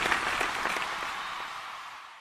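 Cartoon audience applause for a dance team in a Pokémon episode, a dense wash of clapping that starts loud and gradually fades over about two seconds, with no talk over it.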